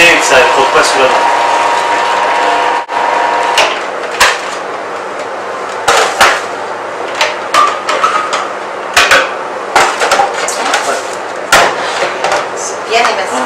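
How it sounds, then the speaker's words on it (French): An electric kitchen food processor chops onion in short bursts of whirring, rattling mechanical clatter, with sharp knocks and pauses between pulses and a voice speaking nearby. "On va le faire au robot, ça nous évitera de pleurer."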